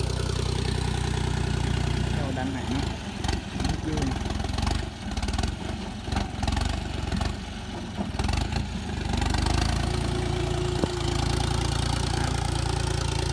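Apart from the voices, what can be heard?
tractor engine running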